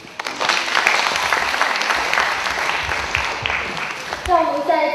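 An audience at an international Chinese-language university debate competition between Macau University and Fudan University claps in a steady, moderately loud burst. A voice speaks over it, and a brief voice rises near the end.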